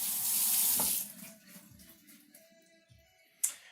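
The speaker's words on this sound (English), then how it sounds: "I just washed my hands after handling the pork" Hands are washed under a running tap at a kitchen sink after handling raw pork. A steady close splash of water runs for about a second, then stops, followed by faint drips and small clinks.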